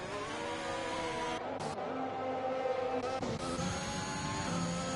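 Ferrari race car in a racing game during testing at Bahrain, engine whine rising and falling through gear changes as it comes in, steady and moderately loud with no talk.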